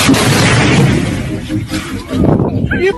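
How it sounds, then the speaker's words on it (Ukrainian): A loud sudden blast of compressed air from a pneumatic tire bead booster bursting out in a truck repair workshop, followed by a rushing hiss that fades, then another burst of air near the end. "Бустер або пневмовзрив, по-різному його називають."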